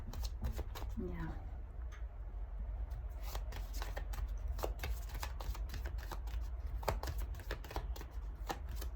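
A deck of cards shuffled close up for a pick-a-card reading, a run of quick crisp riffling flicks and taps over several seconds, with talking partly over it.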